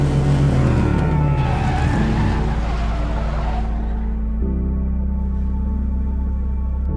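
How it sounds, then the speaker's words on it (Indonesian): A car in a film drifts and speeds around an airport, engine roaring loudly up close with revving and tire noise at first, then settling into a lower steady drone as it pulls away. "Dia melakukan drift dan kebut-kebutan."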